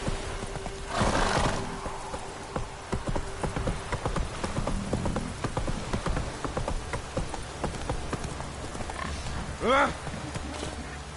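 A horse in The Witcher 3 gives a loud, rising whinny near the end, following earlier clip-clopping hooves and rain, with a voice speaking over the scene.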